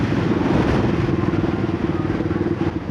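A motorcycle running low on fuel rumbles steadily close by as it rides along. The throbbing, pulsing engine stays continuous throughout.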